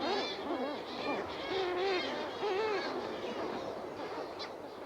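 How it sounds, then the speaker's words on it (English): Sooty shearwaters, or mutton birds, flocking back to their burrows at dusk on the Snares Islands, New Zealand: a dense chorus of overlapping wailing, hooting calls from many birds, continuous and loud, with nearer calls standing out against the mass. "The dusk hour brings millions of mutton birds or Sooty Shearwaters back from the sea to their burrows on the land."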